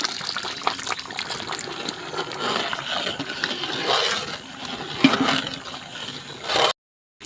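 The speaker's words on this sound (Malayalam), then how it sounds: "നാല് കിലോ വെള്ളം പാവാക്കിയത് ഒഴിച്ചു" Four kilograms of thick jaggery syrup pours and gushes steadily for several seconds, with some clattering handling noise, then stops abruptly.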